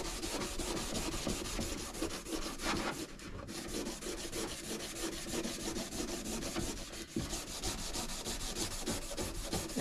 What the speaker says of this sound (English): I'm just going to hit it with some Scotch-Brite.